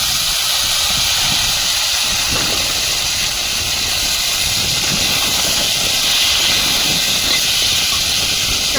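Potatoes, crushed garlic and chopped onion sizzle in hot oil with panch phoron, a loud, close, steady hiss that continues without a break and has no voices over it.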